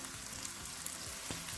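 Steady sizzle and crackle of tomato frying in a pan on a stovetop at medium heat, close and continuous with faint stirring ticks and no voices.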